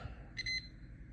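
A single short electronic beep from a multimeter continuity test on a Jeep JK fuel injector pin, faint and high-pitched, over a low steady hum.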